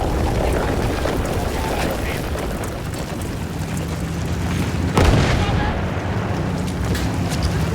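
Battlefield 1 battle with a continuous rumble of cannon fire and explosions, a sharp heavy blast standing out midway, with voices talking over the din.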